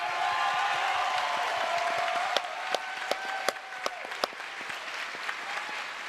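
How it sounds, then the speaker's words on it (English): Applause from an audience at a QuakeCon 2015 esports tournament honoring the second-place Quake Live duel player, a dense steady roar of clapping with a few sharper claps standing out near the end. "So second place, let's give him a round of applause."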